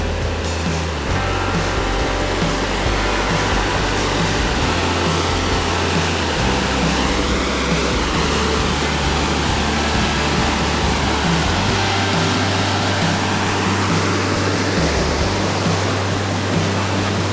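Frolictown waterfall in Panthertown Valley, about 20 to 25 feet tall, pours with a loud, continuous rushing roar that stays unbroken throughout, alone with no voices.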